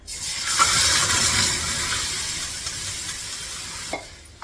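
Grated bottle gourd sizzling loudly in hot ghee, a steady close hiss that eases slightly, with a brief stirring scrape near the end.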